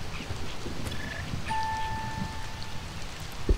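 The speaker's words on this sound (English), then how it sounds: "Oh, it's just raining." Rain falls steadily in the video game Spore, a soft continuous patter with a couple of faint electronic tones over it and a small knock near the end, no talk.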